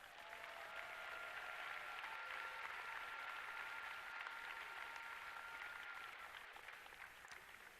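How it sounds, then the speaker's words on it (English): Steady crowd applause fills an arena at the FIRST Tech Challenge Iowa robotics championship, even and sustained for about eight seconds at moderate, somewhat distant loudness, with no speech over it. "another big round of applause for our generous sponsors"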